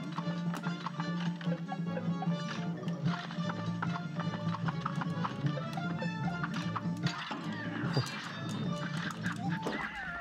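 Horse hooves galloping in a clip-clop rhythm inside the Cuphead video game, busy and continuous amid dense game music and effects throughout.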